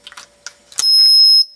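Electronic beep from a three-dog training collar transmitter: a few soft clicks, then one steady high-pitched tone held for about half a second, close and clear.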